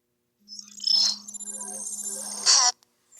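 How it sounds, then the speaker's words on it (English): A mobile phone rings with a short bright electronic ringtone, bursts near the start and end over a steady low hum, close by with no talk. "Phone was trying to ring."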